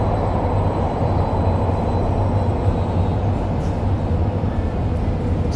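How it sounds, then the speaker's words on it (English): Steady low rumble of a train inside a new Minsk metro station, a continuous loud roar of wheels and motors that holds evenly throughout with no voices. "this is another one of the new metro stops"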